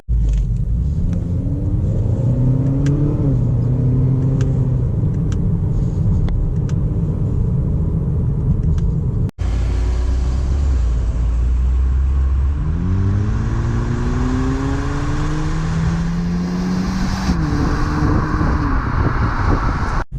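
A 2017 Acura ILX engine drones loudly, its pitch climbing and then dropping repeatedly as the automatic gearbox shifts, with a brief break midway.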